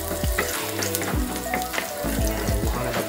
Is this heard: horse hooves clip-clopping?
no